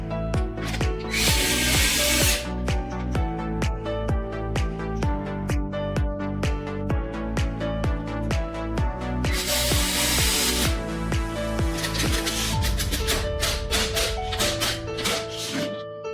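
A power drill drives screws into a hotel door lock (model 2039E), whirring in short repeated bursts with ratcheting clicks, close by.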